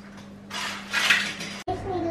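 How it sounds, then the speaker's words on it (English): Metal cupcake baking pans clank and scrape as they are slid into a hot-air oven, one short burst of rattling followed by a thud, with a faint low hum behind it. "I'm gonna place them in the oven for the first temperature"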